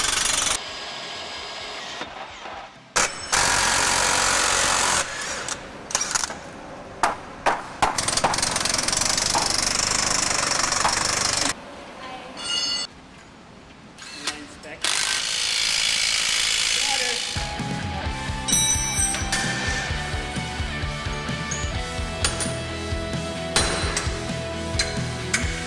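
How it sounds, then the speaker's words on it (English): Heavy metal banging and rough tool noise while a seized pivot on a John Deere depth adjuster is pounded out in a workshop, in loud broadband bursts that come and go, with people talking over it. "I'm gonna pound it out and cut it with a bandsaw."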